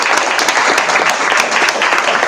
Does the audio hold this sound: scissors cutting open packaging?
no